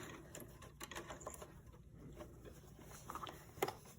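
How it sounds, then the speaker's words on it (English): A sewing machine stitches down an elastic hem on a chicken-shaped fabric grocery bag holder, running in quiet, uneven bursts of fast rattling stitches with brief pauses and small clicks between runs. "I'm only going to be sewing down here pretty much where I have that first stitch"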